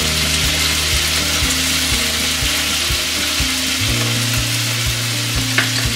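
Chopped tomatoes with turmeric and salt frying for South Indian tomato onion chutney, a steady close sizzle with rhythmic scraping strokes of a spoon stirring the pan throughout, no voices.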